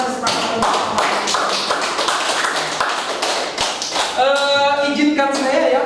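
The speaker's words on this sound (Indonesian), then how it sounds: "kasih tepuk tangan buat kesepakatan" An audience at an Indonesian school teachers' gathering claps hands together, a dense, steady patter that carries on for several seconds while a voice talks over it toward the end.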